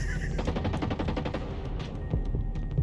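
Rapid automatic gunfire in the video game Ghost Recon Breakpoint, a dense burst of sharp repeated shots fired in quick rhythm, loud and close, trailing off near the end.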